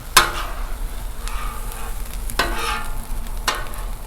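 Chorizo sizzles on a Blackstone flat-top griddle with a steady broadband frying hiss, broken by three sharp scrapes or stirs of a spatula against the steel, close and fairly loud with no talking.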